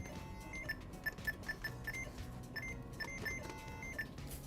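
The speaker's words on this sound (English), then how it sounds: "Let's go total this up at the cash register and see where we stand." Register beeps during a grocery checkout total for a mango and chili agave dessert: a string of short, evenly spaced electronic bleeps, mid-loud, over a steady background hum with no talk.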